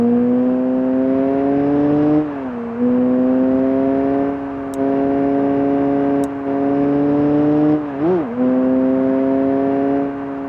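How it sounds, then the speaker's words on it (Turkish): Car engine under acceleration: a droning, tonal note that climbs slowly in pitch, with a couple of brief dips and wobbles like gear changes, fairly close and without speech. "Şimdi arabayla gazlıyoruz. Sesi dinlemeyi unutmayın."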